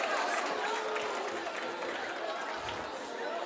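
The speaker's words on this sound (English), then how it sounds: "a lot of loud noise coming from that Bonners Ferry crowd" A district tournament boys' basketball game between Kellogg and Bonners Ferry fills a gym with steady crowd noise: a dense roar of chatter and cheering, moderately loud and continuous throughout.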